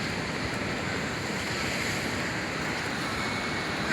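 Ocean waves wash against a harbor break wall protecting docked boats, a constant dense roar of surf with wind, steady and unbroken throughout.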